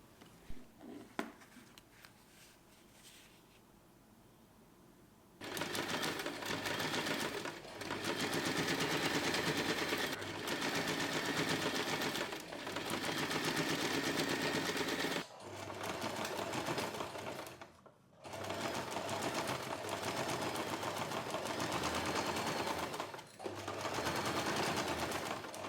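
A sewing machine stitches the corners of a small fabric trapezoid pouch keychain, running in fast continuous bursts of rapid needle clatter with short pauses between them, close and loud after a quiet start with faint handling noises.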